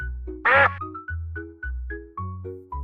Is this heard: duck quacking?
yes